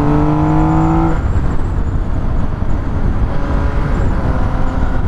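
An MV Agusta 800 Dragster Rosso motorcycle's exhaust drones loudly and close, a brief rising note at the start and then a steady rumbling roar with no speech.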